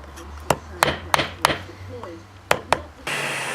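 Hot metal is struck on a makeshift anvil while a simple nail is forged: about seven sharp, ringing hammer blows in an uneven rhythm, close and loud, followed by a short burst of broadband hiss at the end.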